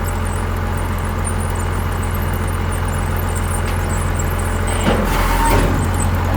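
Steady, loud tractor engine drone while making hay, holding a constant throbbing hum, then revving up slightly toward the end.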